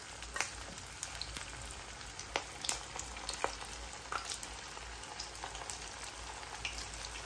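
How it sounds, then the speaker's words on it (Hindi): Chicken pieces fry steadily in hot oil over a medium flame, a continuous close sizzle broken by crisp pops and crackles, with no talking. "धीरे से इसमें चिकन के पीसेस डालते जाइए और फ्राई करते जाइए।"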